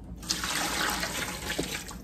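Liquid pan drippings are poured into a pot of bone stock in a home kitchen, a close, steady splashing pour lasting about two seconds with no speech.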